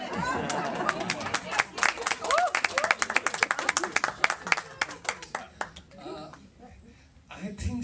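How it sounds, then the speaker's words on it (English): Crowd applause with dense, overlapping hand claps, loud and sustained for several seconds before thinning out, with some chatter underneath. "Why is the clap reserved for Javed Saab when Shabana was saying no?"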